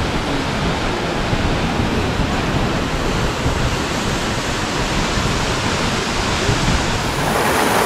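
Latourell Falls waterfall and its creek roar as a steady, loud, broadband rush of falling and flowing water, close and unbroken throughout with no voices.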